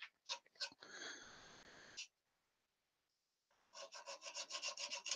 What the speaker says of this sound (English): Using the sandpaper.